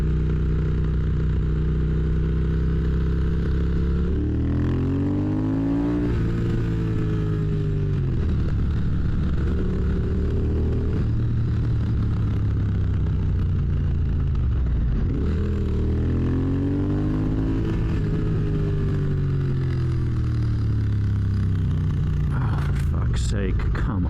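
A 2022 Triumph Speed Twin motorcycle rides through traffic, its twin-cylinder engine droning loudly, with repeated rev rises and gear changes close up, while a rider talks over the engine.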